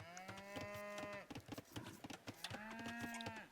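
Cattle lowing in a strategy video game: two drawn-out, harmonic moos, one at the start and another near the end, with clicking game sounds between them.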